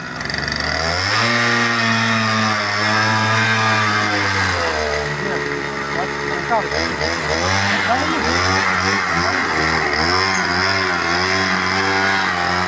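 A homemade mini tractor powered by a petrol brush-cutter engine drives along, its small two-stroke motor buzzing loudly and steadily, with the pitch dipping and climbing as the throttle changes; no talk is heard over it.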